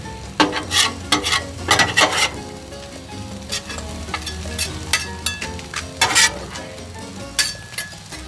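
Onions fry beside steak on a Blackstone griddle, making a continuous loud sizzle broken by bursts of metal spatula scraping and clanks against the flat top, close and without speech.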